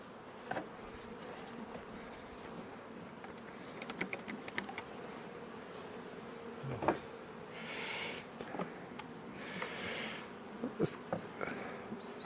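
Honey bees around an open beehive during an inspection, a steady low buzzing drone with occasional louder passes of individual bees close by, plus soft handling knocks.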